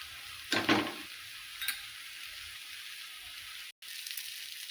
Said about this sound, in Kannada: ಈಗ ಎಣ್ಣೆ ಹಾಕೋತೀನಿ ನೋಡ್ರಿ.